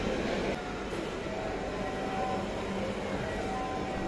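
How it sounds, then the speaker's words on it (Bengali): A crowded metro rail train rumbles steadily nearby on Bangla New Year, a low continuous drone with a faint mechanical whine, no voices heard. "আমাদের ট্রেন চলে এসেছে"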